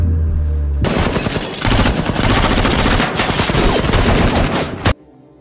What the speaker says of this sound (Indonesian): Letnan Pace yang memimpin penyergapan melepaskan tembakan dan sempat menyerempet topengnya Mike.